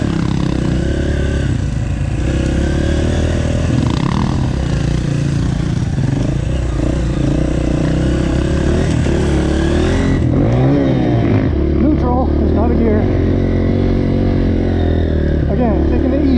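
A KTM 500 enduro dirt bike engine runs close and loud, with a steady thumping idle and throttle blips and revving around the middle. Speech is heard faintly over it.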